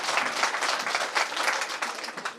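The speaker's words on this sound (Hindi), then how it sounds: "जोरदार तालियों से स्वागत करिए" Audience applause welcoming a speaker to the stage at a Congress party membership drive event in a village panchayat, a steady dense burst of many hands clapping close by, with no talk over it.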